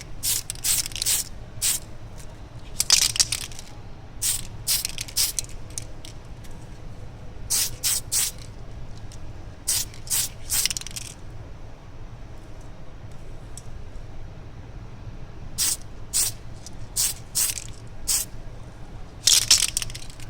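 Short bursts of aerosol spray hiss in repeated clusters, each a quick series of sharp pulses, with brief pauses between, close and fairly loud.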